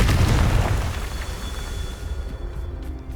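Confringo spell blast in the video game Hogwarts Legacy: a loud booming explosion that hits at once and rumbles away over about three seconds, with no talking.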